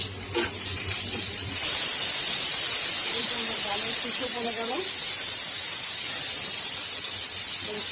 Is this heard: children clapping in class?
no